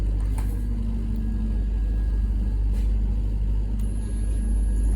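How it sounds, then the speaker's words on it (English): Motor of a conveyor robot cycling under an automated script, a steady low mechanical hum and rumble with a few faint clicks over the top, continuous and fairly loud, no voices. "you can see the motor is cycling"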